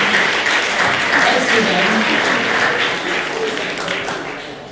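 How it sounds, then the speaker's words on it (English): A crowd applauds steadily and loudly for several seconds, a dense wash of clapping that fades slightly toward the end. "Let's actually give all of our team a round of applause"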